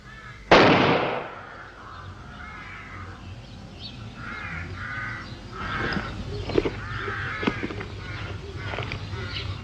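A single sharp sniper gunshot from the Doctor Who serial The War Games cracks loudly near the start and decays quickly, followed by murmuring voices and a low rumble.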